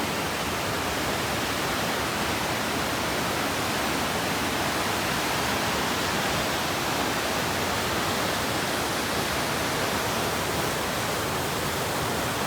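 Dense, constant roar of the flooding Seti River in Nepal, loud and unbroken throughout with no voices.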